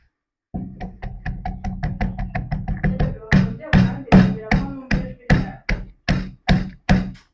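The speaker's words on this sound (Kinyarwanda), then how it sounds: "Mbese tungurusumu wanze kuzishira muri blender nayo ngira gusakurira" Garlic pounded by hand in a small mortar, a steady run of sharp knocks, quick and light at first, then heavier and slower strikes, close and loud with no talk.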